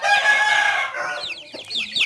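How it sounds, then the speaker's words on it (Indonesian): Chickens on a farm being fed corn give out a dense burst of clucking and calling, with a rooster crowing among them, loud and close throughout. "Oke, sekarang kita mencoba untuk memberi makan ayamnya ya."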